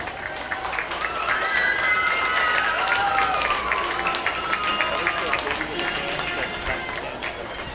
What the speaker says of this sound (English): What do you say about another big round of applause for them?